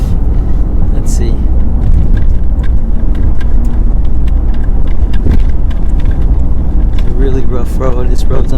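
A 2023 Toyota GR Corolla rolls over a rough road under construction, its cabin filled with a loud continuous rumble of tire and suspension noise, jolts and rattles, with a voice briefly speaking near the end.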